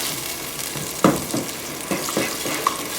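Butter chicken puree cooking down in a pan, giving a steady low bubbling sizzle with a few louder stirring scrapes and spatters, close and fairly loud, with no voices.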